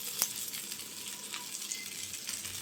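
Eggplant frying in a pan until charred on both sides sizzles with a quiet, steady hiss. A few soft clinks and scrapes come as the pieces are lifted out.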